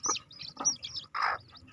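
Five-day-old chicks peep in quick high bursts, several short calls spaced through a brief stretch, close and fairly loud with no talking.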